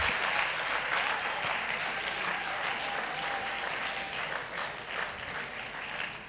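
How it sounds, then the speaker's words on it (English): Festival crowd applauding after a spoken-word poetry performance at the Ake Festival: sustained, even applause from many hands, fairly loud and continuous for the whole stretch with no talk over it. "The fact that you're clapping means that you're a slightly nerdy crowd."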